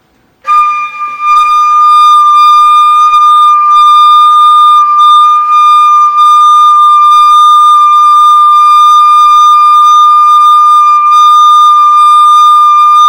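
A flute sounds one steady, loud sustained note for over twelve seconds without a break, played with circular breathing during articulation practice at a workshop.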